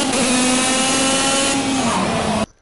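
Go-kart engine from the racing video game Project Cars, a loud sustained buzzing drone holding a steady pitch, dipping slightly before cutting off abruptly at the end.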